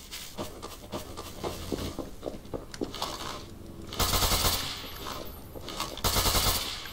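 Rapid gunfire from a weapon in Garry's Mod, a series of sharp shots in irregular bursts with louder, denser blasts near the end, heard alone without talk.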